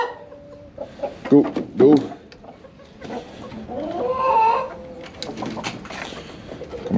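Backyard chickens cluck and a rooster calls, close by and mixed with a person urging the birds along and herding them toward a nest box, with scattered bursts of bird noise throughout.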